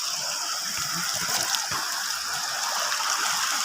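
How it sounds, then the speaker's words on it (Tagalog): A clean river flowing past near a roadside path on the way to church, a continuous rushing, gurgling wash of water, steady and close with no voices. "Ito guys, ito yung ilog namin dito."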